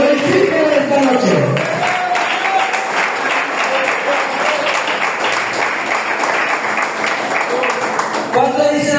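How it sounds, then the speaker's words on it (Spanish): A church congregation applauding, a dense and steady roar of many clapping hands that lasts throughout, with a voice speaking over it at the start and again at the end. "Aplauda al Señor"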